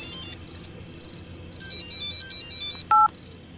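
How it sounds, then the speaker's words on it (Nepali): A phone ringtone goes off in a Nepali domestic comedy scene: bright, repeating electronic chirps with a short louder beep near the end, fairly close over a low room hum, with no talking. "कसले फोन गर्यो फेरि?"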